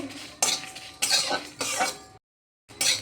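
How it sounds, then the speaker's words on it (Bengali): Coriander, cumin and fennel seeds dry-roasting with dried red chillies in a pan, stirred in scratchy, rattling bursts with a brief silent gap before the scraping resumes. "মশলাটা ভালো করে ভেজে নেব।"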